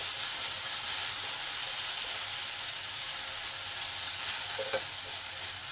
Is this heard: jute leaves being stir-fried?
yes